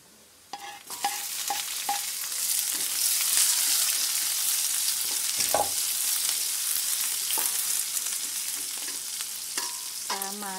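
Spices stir-fried with shallots in a pan for a water spinach (genjer) stir-fry: a steady, bright sizzle of hot oil runs throughout, punctuated by clattering strokes of a spatula against the pan, no speech.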